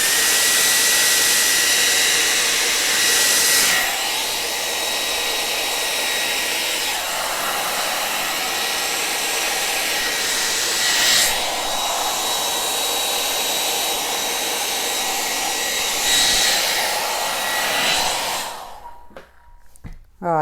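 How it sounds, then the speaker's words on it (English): A hair dryer blows steadily and loudly across wet acrylic paint in a black Dutch pour with metallic colours, holding a continuous broadband roar with slight surges for about eighteen seconds before cutting off abruptly. "Let's blow it over."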